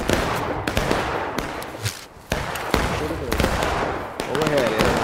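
Musket volleys in the War of Brothers Civil War game crack out as a rapid string of sharp, mostly distant reports. They overlap into a ragged fusillade, with voices talking and shouting orders in between.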